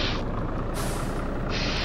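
A bus in the OMSI 2 driving game rumbles at low speed while turning round, with bursts of hissing air brake release rising and falling over the steady engine drone; no one speaks.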